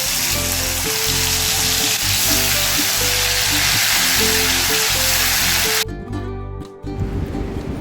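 Tomato paste fries with okra (lady fingers) in a pan, giving a loud, steady sizzle over background music. The sizzle drops away sharply in the last couple of seconds.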